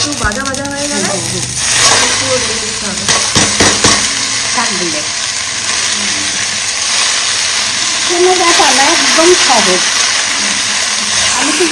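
Mustard seeds and green chillies crackle and sizzle in hot native oil, a loud, close frying hiss with stirring, heard under a woman's speech.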